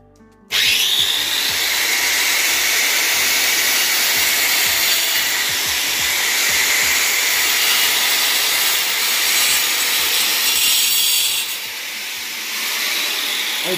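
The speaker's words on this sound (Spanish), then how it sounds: "para que quede derecho, vamos a usar la moladora" An angle grinder cuts through a glass bottle held for a straight cut: a loud, steady, harsh grinding whine that starts abruptly and runs for about eleven seconds, then drops back to a faint hum.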